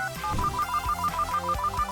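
A phone plays a bright, repeating electronic ringtone melody with a steady bouncy rhythm, close and clear, with no voices over it.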